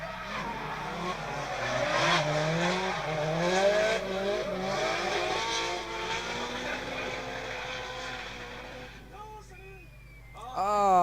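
At a drifting competition, a red Nissan and another drift car roar with wavering engine revs and tire squeal, loud and sustained, while an excited announcer talks over them; a fresh engine surge arrives near the end.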